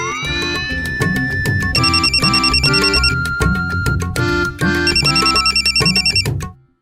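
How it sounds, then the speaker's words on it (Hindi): A telephone rings loudly in repeated electronic trilling bursts, with a pause between rings, close and continuous until it stops. "फोन की घंटी बज रही है"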